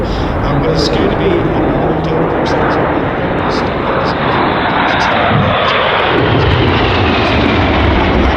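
Red Arrows RAF aerobatic jets pass overhead during a 2022 Royal International Air Tattoo display, a loud continuous engine roar that fills the whole stretch while an announcer's voice carries over the public address.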